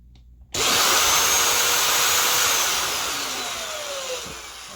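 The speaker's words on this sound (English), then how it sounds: "So basically I got my drill and I'm drilling." A power drill whirs up suddenly and runs continuously at high speed, its pitch shifting slightly as it bites into a wooden Fender Telecaster guitar neck, close by.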